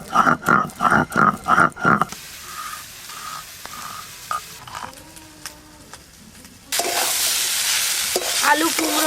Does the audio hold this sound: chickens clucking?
no